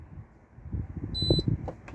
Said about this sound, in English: After the beep, you know it's off.